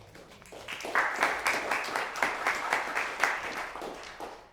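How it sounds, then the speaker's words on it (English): Audience applause at an anniversary spoken-word gathering, a steady wash of many hands clapping for about four seconds with rhythmic surges, moderately loud and with no talk over it. "You guys don't have to clap after every single one"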